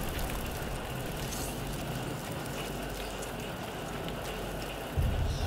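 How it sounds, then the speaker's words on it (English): Heavy rain pouring steadily outside, a dense, continuous hiss of drops close by with a low rumble underneath and a brief thump near the end. "right now it's raining like hell"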